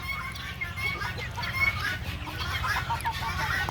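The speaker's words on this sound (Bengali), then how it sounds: "মুরগি চিল্লায়" Hens on a small poultry farm cluck and chatter in short, scattered calls at moderate distance over a constant background hum, with faint voices in the surroundings.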